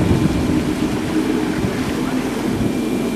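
A boat cruises over flat seas near Grand Manan in the Bay of Fundy, with a steady broadband rush of water and wind under a low engine drone.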